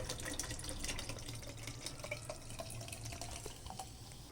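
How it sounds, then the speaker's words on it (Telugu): Sprite poured into a chocolate and crushed cumin drink, a steady close fizzing splash of liquid running for several seconds with no talk. "నెక్స్ట్ స్ప్రైట్ పోసుకోవాలి."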